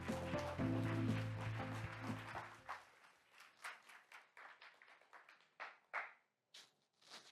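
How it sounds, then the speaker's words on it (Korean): Audience applause greets a speaker at a forum talk on AI, first as a dense wash over a sustained musical tone, then thinning into scattered individual claps that fade away. "큰 박수로 맞이해 주십시오."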